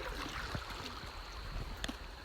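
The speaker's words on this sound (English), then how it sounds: "we're all loaded up in our life jackets and getting ready to paddle" Paddles dipping into the Kennebec River as a loaded boat crosses, soft water swishes and gurgles with a couple of sharper splashes against a steady flowing-water background, no talking.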